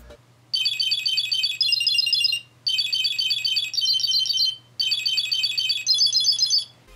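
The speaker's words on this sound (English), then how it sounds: "there's 4 different ringtones, and we're going to play each one right now" A CUBE Bluetooth tracker ringtone of rapid high beeping chirps plays in three bursts of about two seconds each, separated by short pauses, loud and close with a faint low hum underneath.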